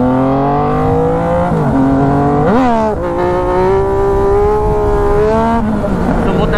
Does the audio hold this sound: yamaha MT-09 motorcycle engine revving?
yes